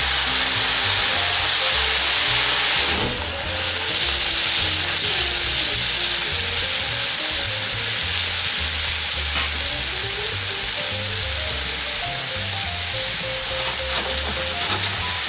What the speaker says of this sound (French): c'est le moment de flamber la viande